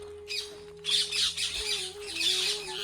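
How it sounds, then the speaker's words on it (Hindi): Birds, likely parrots, squawking near a river at their resting time, with sharp, harsh calls in bursts over a steady background hum, fairly close and loud. "पक्षी बोल रहे हैं इनका रेस्ट का समय हो चुका है"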